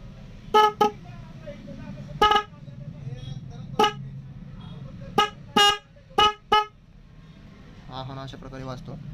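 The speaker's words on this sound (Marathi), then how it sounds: "तो तुम्हाला हा हॉर्न वाजून दाखवतो की हॉर्न कसा वाजला" An MB Windtone motorcycle horn sounded in a shop, giving a series of short, loud, sharp honks, some single and some in quick pairs, with a brief stretch of talk near the end.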